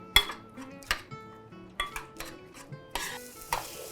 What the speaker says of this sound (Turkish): Antep salçamı da ilave ediyorum. Soğanla birlikte kavuruyoruz.